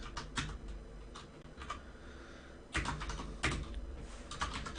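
Close keystrokes on a computer keyboard while coding in PyTorch, with sparse taps followed by a quick flurry of clicks and no talk.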